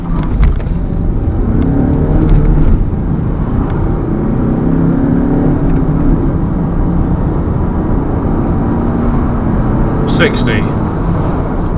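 A Land Rover Freelander diesel with a six-speed manual accelerating hard from standstill to 60 mph, a steady loud engine drone heard from inside the cabin through the gear changes, with a brief voice near the end.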